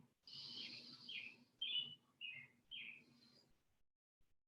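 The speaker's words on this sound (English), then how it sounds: "Maybe you're hearing the birds chirp in my video." Several high, bright bird chirps and short calls ring out in quick succession against a quiet background, then fade to silence.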